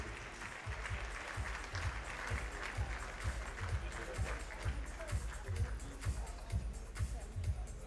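A charity jewellery gala audience applauds together, dense sustained clapping filling the room at an even level, with speech running underneath.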